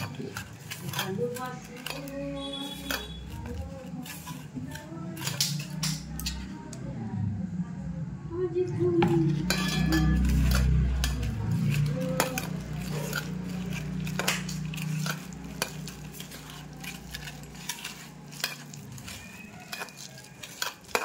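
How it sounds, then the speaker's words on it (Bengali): Brahmi greens being mixed by hand with turmeric, salt and sugar in a bowl, giving a continuous soft squishing and rubbing with occasional light clinks, fairly close and steady. "শাকটার সঙ্গে ভালো করে এগুলো আস্তে আস্তে ভালো করে মেখে নিলাম।"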